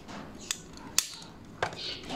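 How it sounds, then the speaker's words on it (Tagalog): A spring is pushed into the tray of an Epson L120 printer, giving a few sharp plastic clicks and snaps spaced apart over faint background hiss, with no talking. "unahin natin ilagay yung spring dito."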